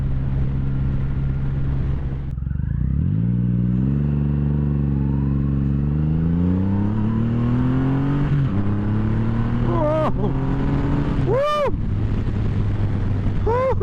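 A 2017 Triumph Rocket III Roadster engine roars loud and close, its revs climbing through several gear pulls with brief drops between shifts, while wind rushes around it.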